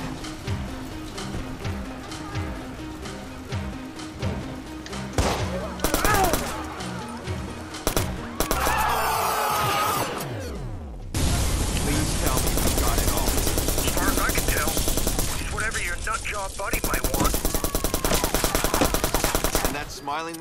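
Gunfire from a small gun in Watch Dogs, rapid automatic bursts mixed with dense game effects and engine noise, loud and continuous over a busy soundscape.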